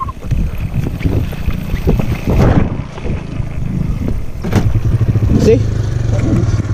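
Dirt bike bump-started in fourth gear while rolling down a hill, its engine catching and running with a low, steady rumble amid wind buffeting the microphone, with people talking over it.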